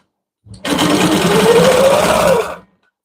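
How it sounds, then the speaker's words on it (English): A sewing machine stitching a quilt runs in one steady, loud two-second burst, its motor pitch rising slightly before it stops abruptly, heard alone with no voices. "Okay, now I can stitch up this side again."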